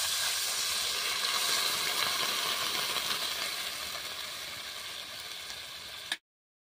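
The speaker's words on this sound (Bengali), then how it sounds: "পরিমাণ মতো আমি জল দিয়ে দিচ্ছি" Spiced water poured into a pan of fried-down browned onions and masala, bursting into a loud steamy hiss and sizzle that slowly fades over several seconds, then cuts off abruptly, no voices.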